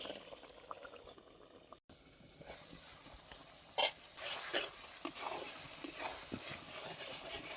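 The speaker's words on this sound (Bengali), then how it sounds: "এবারে আমি 2 মিনিটের জন্য ঢেকে সেদ্ধ করে নেব" A covered pot of red lentils and potatoes simmering in a little water, with quiet bubbling and a few soft knocks and clinks near the lid.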